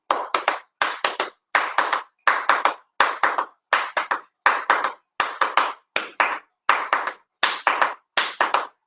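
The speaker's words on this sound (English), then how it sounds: "let's clap that out real quick" A teacher's hands clap out a quick rhythm during a home dance class, in sharp bursts of several fast claps separated by short pauses, repeating steadily and close up with no talking.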